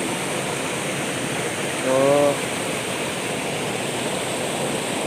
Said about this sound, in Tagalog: ito pa yung maliit na sapa na mabagsak na mini falls